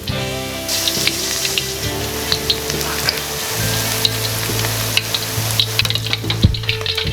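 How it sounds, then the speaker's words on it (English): Seafood deep frying in hot oil gives a steady, loud, crackling sizzle with dense popping and bubbling that runs the whole time, with some lighter clinks in the background. "When you're deep frying"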